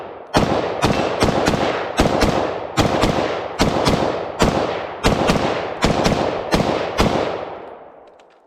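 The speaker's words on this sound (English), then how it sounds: "We'll just mag dump the rest of this just to see how it goes." Rapid AR-15 rifle magazine dump with green-tip rounds: a loud, close string of a dozen-plus sharp shots in quick bursts, each with a ringing tail, ending in a fading echo.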